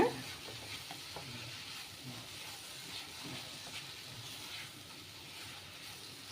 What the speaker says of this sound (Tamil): அந்த ரவை கூட தேங்காய் கூட இந்த பழம் நாட்டு சர்க்கரை ரெண்டையும் சேர்த்து ஆட் பண்ணி மிக்ஸ் பண்ணி விட்டுக்கோங்க